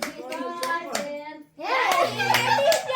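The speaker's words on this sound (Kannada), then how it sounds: "ಹೊಡಿರಿ ಚಪ್ಪಾಳೆ ಹೊಡಿರಿ" A small group clapping at a family anniversary gathering, sharp hand claps in short bursts at close range, mixed with voices talking and someone speaking.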